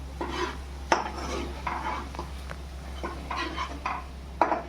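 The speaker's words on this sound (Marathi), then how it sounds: "जोपर्यंत ग्रेव्ही आपली होत नाही ना तोपर्यंत असं ढवळतच राहायचं" Egg curry gravy stirred in a pan over low heat, with repeated scraping sweeps and a few sharp clinks of spoon on metal, over a steady low hum.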